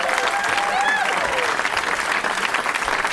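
A comedy club audience at the Punchline in San Francisco applauds loudly and steadily as a comic's set ends, while a voice speaks over the clapping.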